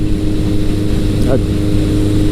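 A 1982 Suzuki GS1100 cafe racer motorcycle engine drones steadily while riding, a loud, continuous low rumble with wind noise, close and unbroken throughout.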